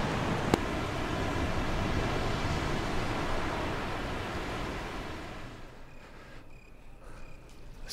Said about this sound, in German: Sie hören das entfernte Rauschen eines Wasserfalls.